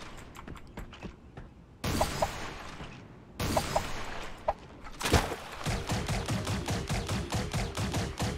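Power rifle gunfire in a video game comes as rapid, sharp repeated shots in bursts, with a sustained volley of fast cracks in the last few seconds.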